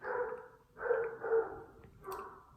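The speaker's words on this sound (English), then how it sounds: "there's a dog barking in the background" A dog barks in the background, several faint, distant barks in a loose rhythm, with no talking over them.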